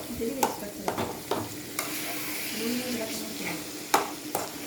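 Food being mixed and fried in a pan, with soft sizzling under sharp scrapes and clinks of a spoon against the pan at irregular intervals, and a voice talking faintly in the background.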